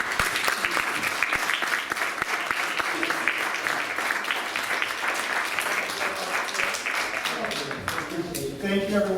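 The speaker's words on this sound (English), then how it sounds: "Let's give another round of applause." Audience applause at a book talk on Black life in old New Orleans, steady dense clapping filling the whole stretch and thinning at the end, with voices murmuring underneath.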